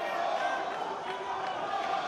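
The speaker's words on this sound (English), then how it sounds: "Referee Michael Alexander could hardly make himself heard over the noise of the crowd here." Dense crowd roar fills a boxing arena at York Hall during a featherweight championship bout, a steady, loud wash of cheering and shouting voices with no break.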